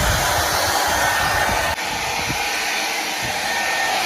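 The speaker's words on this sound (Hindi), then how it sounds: "चलिए बाल सुखाइए मेरा" A hair dryer blows on wet hair, a loud steady whooshing roar that keeps running with a slight change in pitch partway through.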